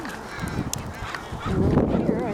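Geese honk repeatedly outdoors, a chorus of nasal calls at moderate distance growing louder and busier toward the end, with other birds faintly around.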